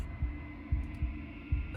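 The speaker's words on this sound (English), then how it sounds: "a wooden and fleshy heart beating with an unbroken rhythm" A wooden and fleshy heart beats at the center of the Slay the Princess game world, four deep, muffled thumps in a steady, unbroken rhythm over a low droning hum, with no talk.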